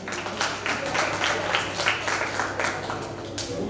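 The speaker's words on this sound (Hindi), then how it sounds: "एक बार जोरदार ताली बजाएं।" Audience applause fills a college get-together, a dense run of many hands clapping steadily for several seconds at moderate loudness with no voices over it.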